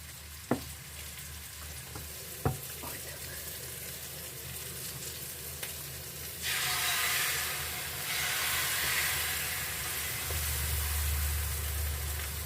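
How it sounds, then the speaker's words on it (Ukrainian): Egg pancakes sizzle in a greased pan on a gas stove, a soft frying hiss broken by a few sharp clicks, then swelling into a louder, brighter sizzle for the second half. "ці смажаться швидко"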